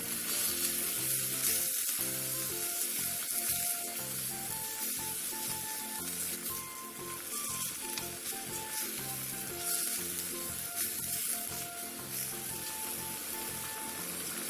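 Minced garlic, ginger and soy sauce are stir-fried in a pot for a Korean soup, crackling in a continuous loud sizzle with occasional stirring scrapes and faint background music.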